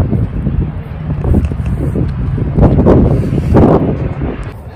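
Strong gusty wind buffets the microphone outdoors under a darkening sky, a loud continuous rumble that swells and eases in irregular gusts.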